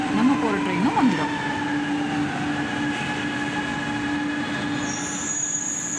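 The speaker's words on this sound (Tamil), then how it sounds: "ஆப்போசிட் ட்ராக்ல வந்து ஒரு ட்ரெயின் ரீச் ஆச்சு" A metro train pulls in on the opposite track at a station platform, with a steady loud rumble, rising and falling wheel squeal early on, and a high-pitched tone near the end.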